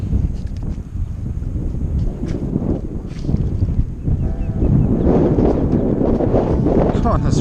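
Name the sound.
wind on the ocean beach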